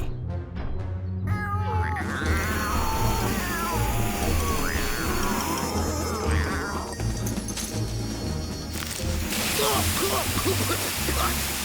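Cartoon cats meow and caterwaul in a continuous, layered chorus of yowls over a dense, noisy animated soundtrack, loud and busy throughout.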